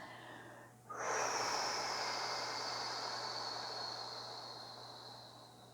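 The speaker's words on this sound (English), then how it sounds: "As we exhale, we charge ourselves a second time" One long, slow exhale during a guided meditation, starting after a brief pause and trailing off gradually over several seconds, close and breathy with a faint steady hum underneath.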